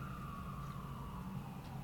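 An ambulance siren passes near a hospital, a steady wailing tone that slowly drops in pitch as it goes by, heard at moderate distance over low traffic rumble.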